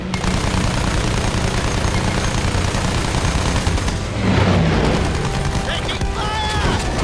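Dense gunfire in Battlefield 1, rapid rattling shots and booms filling the scene continuously and loudly, with a voice shouting briefly amid the combat.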